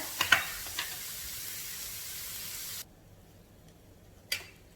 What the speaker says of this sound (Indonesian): goreng wortel sampai berubah warna, agak-agak coklat-coklat gitu ya